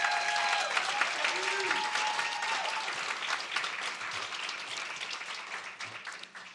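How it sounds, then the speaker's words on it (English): Applause from an audience at an annual journalism awards banquet, steady at first and gradually thinning and fading over several seconds, with scattered voices mixed in. "I hope you give it a round of applause for Jason."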